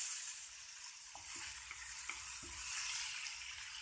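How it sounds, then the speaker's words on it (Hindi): Finely chopped tomatoes fry in a pan for pav bhaji, giving a constant close-up sizzling hiss. A few soft stirring knocks are scattered through it. "साथ ही साथ बारीक कटा हुआ टमाटर डालूंगी। अब इसे हम 2 या 3 मिनट तक अच्छे से पकाएंगे।"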